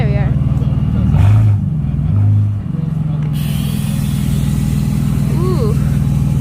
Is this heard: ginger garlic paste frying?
no